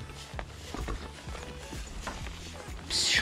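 Horse hooves clip-clopping in a steady walking rhythm on hard ground beside a gate, fairly close, alone with no talk, rising to a louder noise at the end.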